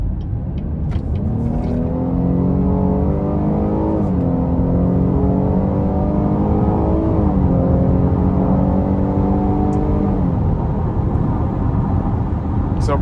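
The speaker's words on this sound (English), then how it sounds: "But I love that sound from the V6. Very strong." A 2025 Cadillac XT6 Premium Luxury AWD V6 accelerates hard up an interstate on-ramp, its engine note climbing through several gear changes in a loud, steady, close-up cabin roar.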